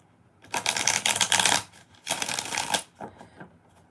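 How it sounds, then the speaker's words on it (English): Tarot cards are shuffled in two loud, close bursts of rapid riffling, followed by a short softer shuffle, without talking. "We're going to do 6 shuffles"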